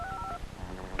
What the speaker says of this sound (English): Rocket, show us how easy it is to dial 1-800-COLLECT.